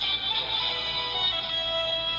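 A steady electronic chirp of high, bright tones holds evenly for about two seconds: the CBS Radio Net Alert bulletin signal.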